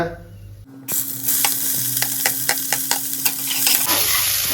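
Onions dropped into hot oil with spices in a pot for a mutton bone and brinjal curry, a sudden loud sizzle followed by rhythmic scraping stir strokes over continuous frying hiss, close up.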